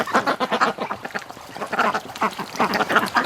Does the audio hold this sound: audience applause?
no